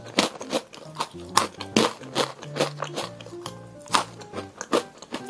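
Loud, crisp crunching bites of a crunchy snack repeat in a steady rhythm, close up, with chewing between bursts over a faint tonal background.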